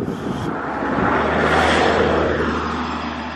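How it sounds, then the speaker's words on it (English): A car drives past near a lakeside walk-in spot, a broad engine and tyre rush that swells to a peak mid-clip and then fades, with a steady low hum beneath and no talk. "That same car's coming back."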